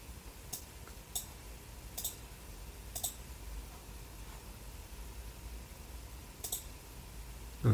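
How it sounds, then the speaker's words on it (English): Sparse computer mouse clicks, about six single sharp ticks spaced irregularly over a quiet hiss of room noise, faint and close. "I'll click on here"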